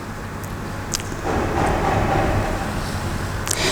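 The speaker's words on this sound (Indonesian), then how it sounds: "Naik kereta api, tut tut tut." A train rumbles past in a steady, loud roar with a low droning hum, growing a bit heavier midway, with faint rattling clicks on top and no talking.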